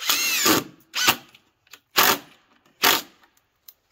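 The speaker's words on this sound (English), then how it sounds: "So make sure you don't drive your screws so they go all the way through." A power drill drives screws into a deck railing outdoors, with four separate loud, short whirring bursts spaced about a second apart and quiet gaps between them.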